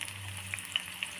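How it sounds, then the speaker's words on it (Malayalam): Shallots and curry leaves crackle in hot coconut oil, a soft steady fry with a few sharp pops spaced out over a second, quiet and alone. "വെളിച്ചെണ്ണ നന്നായി ചൂടായി കഴിയുമ്പോൾ നമുക്ക് ചെറിയുള്ളി നീളത്തിൽ അരിഞ്ഞത് കുറച്ച് ഇട്ട് കൊടുക്കാം."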